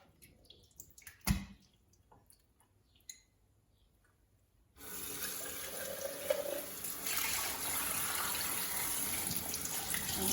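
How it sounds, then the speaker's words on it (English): Tap water runs into a kitchen sink while oatmeal is rinsed, preceded by a few quiet clicks and clatters, then a loud, steady rush of water for the rest. "The next step is for me to rinse my oatmeal."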